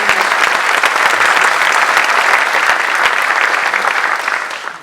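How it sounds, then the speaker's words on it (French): Audience at a Journée bleue 2019 conference session on societal issues applauds steadily for nearly five seconds, dense sustained clapping at close range with no talking over it, tapering slightly at the end. "On t'applaudit."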